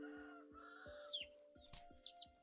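Chickens cluck in the survival game Vintage Story, soft rhythmic clucks with a few sharper squawks over a steady tonal game ambience, no speech.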